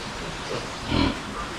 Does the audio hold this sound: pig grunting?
yes